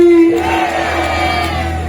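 A large crowd at a Hindu conference in Khurja roars a loud collective chant in response to a call, voices merging into a sustained sound.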